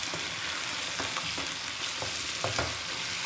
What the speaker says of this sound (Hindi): ये साथ साथ ही प्याज भी फ्राई हो जाएगा, गोल्डन हो जाएगा, और ये चिकन भी।